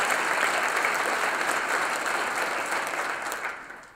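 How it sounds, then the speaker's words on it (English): An audience at the 2015 Novi State of the City Address claps loudly and steadily for a few seconds before the applause tapers off. "let's round of applause for the Tuck."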